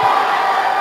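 Crowd of São José supporters in a packed gym behind the team bench at a futsal quarterfinal, cheering and shouting in a steady, dense roar that stays close and loud throughout.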